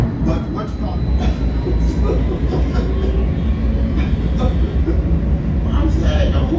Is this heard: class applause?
no